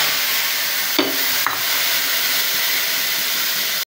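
Pigeon meat rubbed with turmeric and salt drops into hot oil, producing a loud, constant close sizzle with a couple of brief pops and clicks before it cuts off abruptly.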